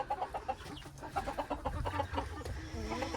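Silkie chickens cluck close by on a hobby farm in the morning, with other chickens farther off, a busy overlapping stream of short clucks and murmurs.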